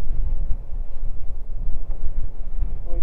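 Steady Kansas wind buffets the microphone on a long-range shooting range, a loud, continuous low rumble with no speech.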